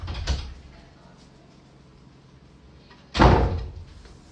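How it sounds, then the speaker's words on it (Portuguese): A house door is opened to let a dog out, giving two solid knocks or clunks. A short one comes first, then a louder, longer bang about three seconds later, with quiet between them. "Deixa eu abrir aqui para essa cachorra ir embora, senão ela fica batendo aqui na porta."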